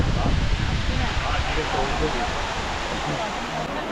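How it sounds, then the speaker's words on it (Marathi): A waterfall in a jungle pours as a steady, broad roar of rushing water, close and constant with no pauses. "इकडे मस्त समोर असे धबधबे आहे, हे बघा."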